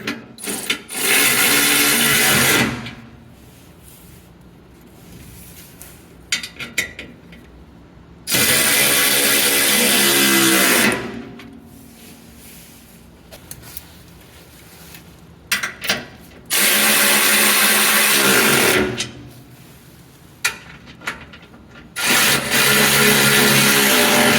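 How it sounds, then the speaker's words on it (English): A ratchet with a 14mm socket drives bolts into a transmission skid plate on a 2021+ Ford Bronco, producing several loud bursts of fast clicking separated by quieter pauses. "Hit them with my ratchet. This is a 14mm socket."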